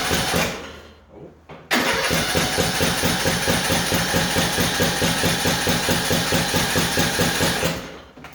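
A small engine on a lightly used machine starts up and runs with a loud, steady, rapid chugging close by, then cuts off near the end.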